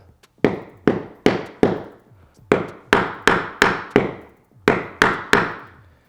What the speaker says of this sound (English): I'm just going to use a hammer to knock this over